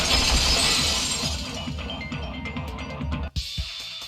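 A vase shattering in Danganronpa 2, a loud burst of breaking and tinkling ceramic fragments that decays over a few seconds and ends with a short sharp clink, no voices.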